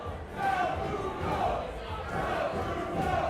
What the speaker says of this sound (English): The crowd chanting on Del Bruno